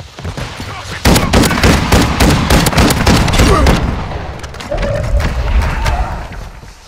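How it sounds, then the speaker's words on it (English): A flash grenade goes off in the Warzone zombie royale game mode, Vondead: a loud, dense run of booming, crackling blasts lasts several seconds, then a second, lighter stretch of bangs follows, all close and harsh. "Throwing flash grenade."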